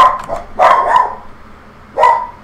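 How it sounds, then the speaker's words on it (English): Several dogs barking somewhere in a house, a quick burst of loud barks followed by a pause and then one more bark, heard alone without talk. "Sounds like my dogs are going off."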